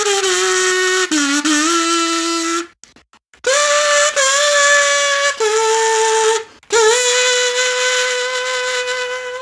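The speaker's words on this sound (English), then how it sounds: "Sounds like it's played by some sort of tin whistle maybe" A tin whistle carries the Colgera boss theme melody from Zelda: Tears of the Kingdom with bright, sustained notes and bending pitches. Two brief near-silent gaps split the phrases, and no one speaks.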